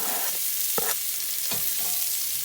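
Diced whole onion sizzling in about two teaspoons of bacon grease in a kettle for a cheddar bacon potato soup, a steady close frying hiss broken by a few short scraping stirs.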